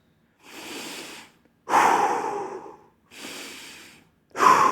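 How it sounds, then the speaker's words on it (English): Deep breaths taken before a set on a plate-loaded leg press, four loud breathy inhales and exhales in close succession, near and alone. "From this position, take 2 massive breaths."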